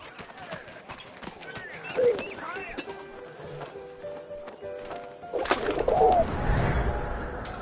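Pigeon in the 11-11 Memories Retold video game, with soft cooing calls and a burst of fluttering wingbeats as it takes flight, set against ambient game sounds and faint background voices.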